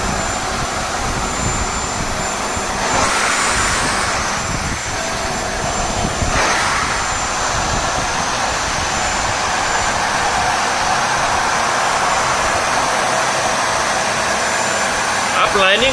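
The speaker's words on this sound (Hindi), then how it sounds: "तो चलिए अब हम कारपेट क्लीन करके देखते हैं।" A KENT vacuum cleaner cleans a carpet with a loud, steady whooshing roar that runs the whole time, and a voice talks over it.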